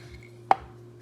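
A single sharp knife chop cuts through a lemongrass stalk on a cutting board in a kitchen, a crisp close thud standing alone over a faint background hum.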